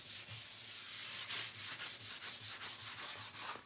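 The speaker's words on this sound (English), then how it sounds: "that little bit of a sand, and again, always with the grain of your piece" Painted furniture being hand-sanded along the grain: rhythmic back-and-forth scrubbing strokes, close and steady, about a dozen quick passes after one long initial rub, with no talking.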